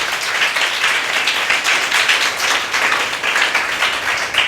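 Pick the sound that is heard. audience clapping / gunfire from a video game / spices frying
audience clapping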